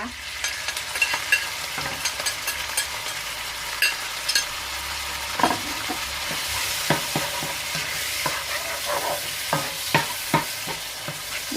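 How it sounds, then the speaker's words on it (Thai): Garlic is stir-fried with minced pork and oyster sauce in a new deep pan, giving a continuous loud sizzle broken by frequent sharp spatula scrapes and clanks, close up with no voices. "พอกระเทียมหอมใส่หมูบดที่เราผสมน้ำมันหอยไว้นะคะ"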